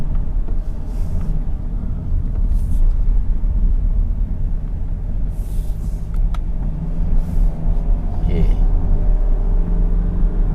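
A 2022 Kia Carnival climbs the winding Genting hill road on a wet surface, its engine and road noise forming a steady low rumble. Someone talks briefly inside the cabin.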